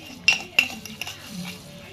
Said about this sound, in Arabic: هنحط بقى الملح ايه 3 معالق كبار كده